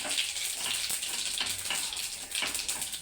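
Black pepper and cumin seeds sizzle in hot oil and ghee, a steady close crackling hiss running unbroken throughout.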